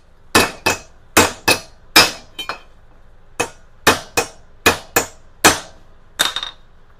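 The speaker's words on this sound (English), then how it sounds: "the goal here is to actually hammer these two edges down and get a nice tight fit" Metal swing-arm tube for a 1987 Honda TRX250R having its cut edges hammered down for a tight fit: about a dozen sharp, ringing hammer blows in uneven pairs and short runs, close and loud, with no talk.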